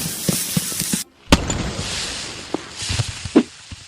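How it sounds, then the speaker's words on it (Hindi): Recorded explosion effect for movie bomb scenes: a series of sharp, loud bangs and cracks, one heavy blast after a brief pause, with crackling debris-like pops around it and no speech. "मूवीज में जब कोई बम फटने का सीन होता है तो उसका साउंड कुछ इस तरह रिकॉर्ड किया जाता है"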